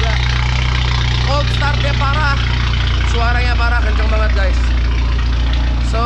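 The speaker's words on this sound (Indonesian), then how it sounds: "Gila, cold startnya parah, suaranya parah, kenceng banget guys." A BMW F30 320i idles just after a cold start, its engine a loud, steady low drone that runs the whole time, with a person talking over it.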